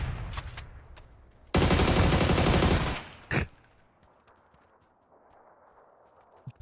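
Burst of gunfire in the shooter game PUBG on console, a loud sustained roar of rapid shots lasting over a second, followed by a single sharp crack and quieter game ambience.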